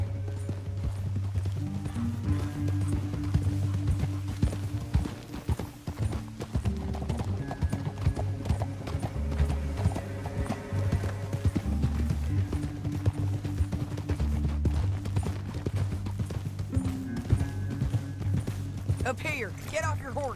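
Horses in Red Dead Redemption 2 clatter along in a steady rapid clip-clop gallop throughout, with game music and faint voices underneath.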